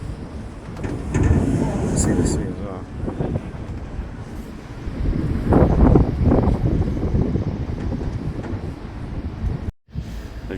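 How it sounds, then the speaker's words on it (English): Heavy wind high up in a crane's man basket buffets the microphone in rumbling, gusty surges that rise and fall, while a person speaks briefly over the roar. "Whoa, it's windy up here."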